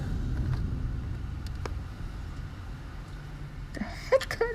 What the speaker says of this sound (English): What kind of car is that?